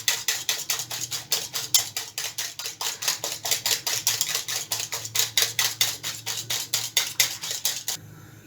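Ingredients for a spicy cheese egg sandwich being whisked in a bowl, giving a fast, steady run of light clinking strokes that repeats evenly for several seconds, close and clear with no voices.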